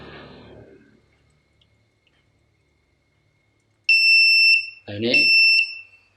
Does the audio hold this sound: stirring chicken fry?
no